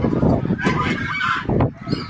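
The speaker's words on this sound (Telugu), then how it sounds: "అన్ని బాతులే, పెద్ద బాతులు" A flock of big ducks honks in loud, overlapping calls close by, several bursts packed into a brief stretch of continuous noise.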